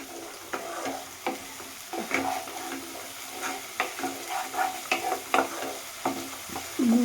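Mustard paste masala stir-fried in a pan, a continuous close sizzle broken by repeated scraping strokes of a spatula, with no talk.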